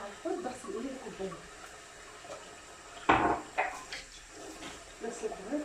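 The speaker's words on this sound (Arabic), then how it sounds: "بغسل الكوبايات عشان ايه ما تتكسرش ولا تبهدل بقى مني ولا حاجه" Glasses and dishes washed at a kitchen sink, soft clinks and light water splashing with a louder clatter midway, quiet and close, while someone talks over it.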